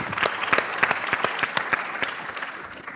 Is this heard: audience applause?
yes